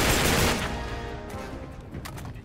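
A loud shotgun blast in Uncharted 3: Drake's Deception opens with a sharp burst, then decays into a rumbling tail with a few fainter shots trailing after.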